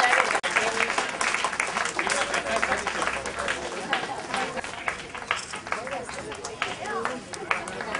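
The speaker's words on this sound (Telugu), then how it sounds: "కొట్టండి అమ్మా క్లాప్స్." Applause from the audience at a prize-giving ceremony for a shooting competition, dense and steady for several seconds, with voices talking over it.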